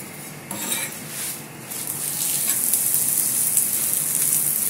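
A spatula scrapes and shifts a ghee-coated aloo paratha on a griddle, with light metallic scraping early, then a steady soft sizzle rising and holding, no talking.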